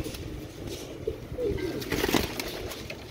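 Pigeons, including red-eyed Kamagar birds, coo softly in a coop, with low rolling calls repeating several times over a faint background hiss.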